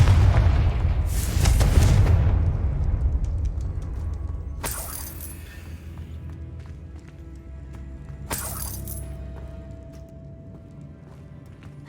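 A Confringo blasting spell in Hogwarts Legacy explodes with a loud, broad burst about a second in, followed by two sharper, fainter cracks later as the echo and rumble die away.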